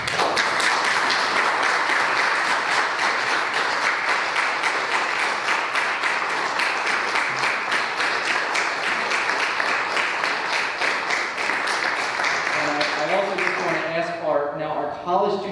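A church congregation on a scholarship and graduate Sunday applauds graduating seniors, sustained, rhythmic clapping from many people filling the room, fading near the end as a voice begins speaking.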